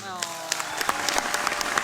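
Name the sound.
audience applause as contestant leaves the stage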